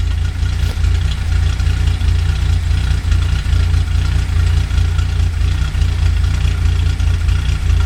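A 1982 Datsun 280ZX idles with a ceramic-coated header and straight exhaust, a loud, steady low rumble with an even pulsing throb and no talk throughout.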